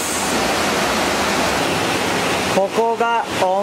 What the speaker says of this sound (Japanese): ここが温泉で、そして目の前にもう川です。